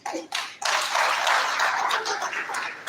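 An audience at a statistical science and data analytics conference claps, a couple of brief claps first, then a fuller burst of applause that holds steady and fades slightly.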